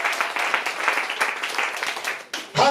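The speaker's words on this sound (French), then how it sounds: "Quelqu'un peut applaudir pour Jésus-Christ." Congregation applause at a church service, dense clapping filling the space with a steady broad wash, dropping off briefly near the end before a louder burst returns.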